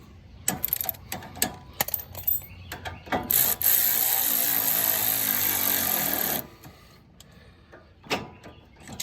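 A ratchet tightens a lawn tractor steering spindle on a Craftsman tractor, with a few sharp clicking strokes up close, then a steady buzzing ratchet whirr for about three seconds, followed by more scattered clicks.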